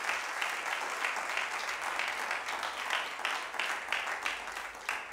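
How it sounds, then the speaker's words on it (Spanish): A church congregation claps during a worship service, moderately loud applause with distinct individual claps and uneven rhythmic bursts over a faint low hum. "Denle un aplauso al Señor."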